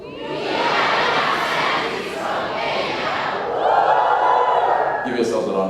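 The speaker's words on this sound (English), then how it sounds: "Top of your voices." A crowd of young people at a science exhibition opening in Kenya shouts at full volume, a loud sustained roar of many voices that swells and holds for several seconds, ending with a brief woo.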